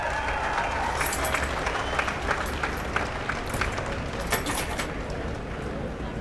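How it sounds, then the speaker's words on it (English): A crowd of parents and children at an outdoor rally applauds, a broad rumble of clapping with scattered sharp claps and cheers standing out over the steady noise. "Round of applause for everyone in this crowd."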